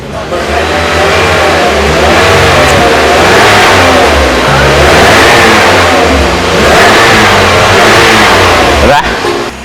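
A 2007 Toyota Vios 1.5 J engine revs repeatedly in loud, rising and falling surges, with speech over the engine noise.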